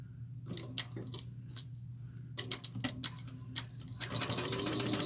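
A sewing machine stitches along the clipped edge of a Janie Bags Hope Bag with a narrow seam, in short irregular bursts at first and then a steadier, denser run of ticking stitches over a low motor hum.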